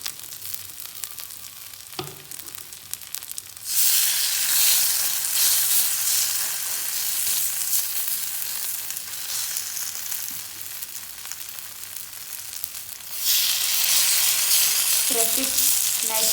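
A pressed hash brown potato patty frying in a pan, a loud, dense sizzle that swells suddenly and holds steady, then rises again, with a brief clink and light scraping as it is pressed with a spoon.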